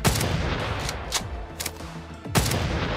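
Sniper rifle fire in the mobile FPS game Alpha Ace, with loud, dense bursts of shots and a few sharp cracks between them, heard alone without speech.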